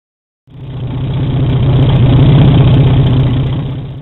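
The engine of a 1932 Chevy rat rod truck starts up and runs, a loud close rumbling idle with a steady low pulsing beat that holds for several seconds, no voices.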